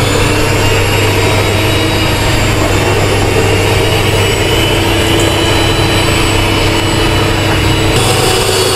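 An electric mixer beats butter and powdered sugar for green tea butter cookies, giving a steady, loud, unbroken whirring drone with no speech over it.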